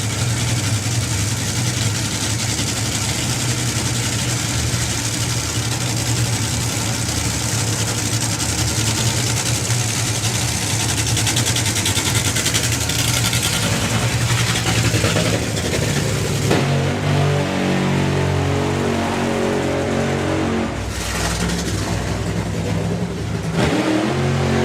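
A drag racing engine at a 2025 Festival of Power meeting runs loud and continuously after ignition, a dense rumbling roar with revving swells that settle into a rougher, lower idle toward the end; no voices.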